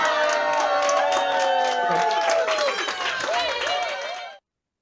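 Conference audience applauding and cheering, a dense wash of clapping mixed with whoops and crowd voices, fairly loud and steady before cutting off abruptly near the end.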